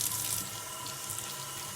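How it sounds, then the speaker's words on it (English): A steady stream of water pours into clay made from dug-up soil, a continuous close rushing splash that stays even throughout. "And then we're gonna put some water in it."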